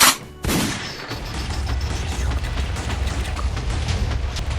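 Fireworks launched in Minecraft: a sharp loud burst, then a sustained, dense stream of crackling pops.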